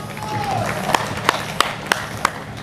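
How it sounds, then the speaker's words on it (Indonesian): Sparse, sharp claps ring out about five times at an event in Samosir honouring Pak Lamhot, separated by short gaps over a low background murmur. "Jadi kita tepuk tangan untuk Pak Lanhot"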